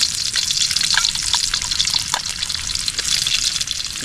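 Chopped garlic sautéing in hot oil in a pan, cooked as the base for a prawn and shrimp dish, gives a steady close sizzle with bubbling and occasional stirring scrapes, and no one speaks.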